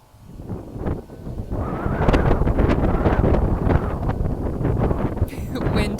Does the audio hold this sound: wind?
yes